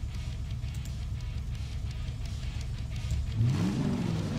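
A vehicle in the Heavy Metal Machines video game revs and speeds up, a steady engine drone that climbs into a rising whine near the end, fairly loud with no talking.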